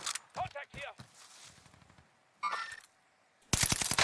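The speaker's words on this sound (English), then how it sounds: "Right now, people are fighting. You hear gunshots over here." Automatic gunfire from a Call of Duty Warzone match: scattered shots and clatter early on, then a loud, rapid burst of fire at the end, with faint voices in the background.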